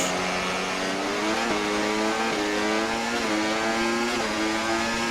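Formula 1 cars launching off the grid at the race start in F1 24, a dense, loud wall of high-pitched engine whine, revs climbing steadily and dropping briefly at each upshift, with no talking.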